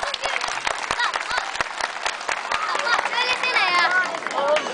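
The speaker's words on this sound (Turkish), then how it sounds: "Alkışlarız Mahmut'u" Audience applause for Mahmut at a village celebration in İkizören, dense clapping from a nearby crowd with some children's voices and chatter mixed in.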